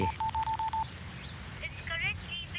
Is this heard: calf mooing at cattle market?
no